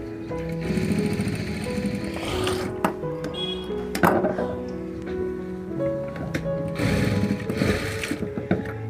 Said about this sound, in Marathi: मी पुन्हा इकडं ही ती शिलाई देत आहे उभी